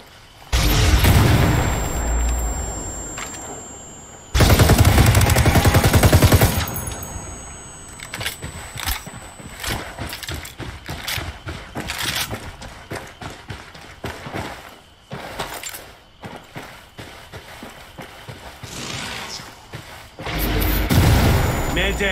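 Video game shootout with loud bursts of gunfire, heaviest at the start and again around five seconds and near the end, with dense clattering action between.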